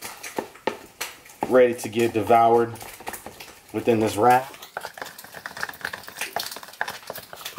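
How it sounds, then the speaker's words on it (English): Turkey bacon sizzles in a pan, a soft, steady crackling hiss in the background beneath someone talking close by. "If you can hear in the background, I got the turkey bacon sizzling"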